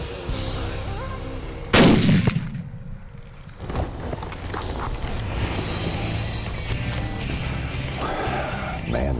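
A single loud rifle shot is fired at a deer buck beside an alfalfa field in West Texas. It is a sharp crack with a decaying echo, followed by quiet outdoor ambience.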